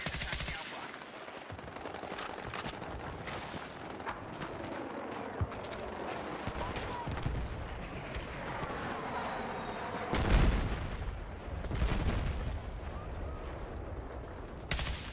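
Sustained gunfire in a Battlefield 6 multiplayer battle, with sniper fire among it: dense, overlapping bursts of shots run throughout, peaking in a louder cluster near the ten-second mark, while faint voices sit low in the mix.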